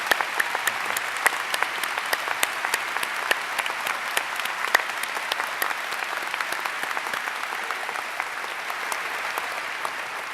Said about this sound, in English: May we have another round of applause for Mr.